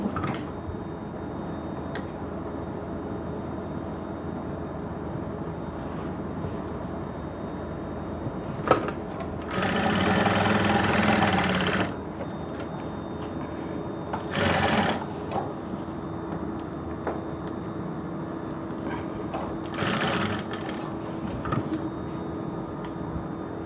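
A sewing machine stitches a suit in a tailoring class, sounding in several loud bursts of fast rattling stitching, one long run and two shorter ones, between quiet stretches of faint handling noise.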